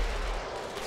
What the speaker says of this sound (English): I'll just hit him with the cannons